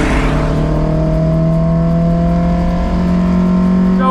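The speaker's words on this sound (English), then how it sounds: "He makes it work and heads out on track with the little Miata." A little Mazda Miata rolls out onto a race track, its engine a steady, loud drone with a held pitch that shifts slightly, close and alone with no talk.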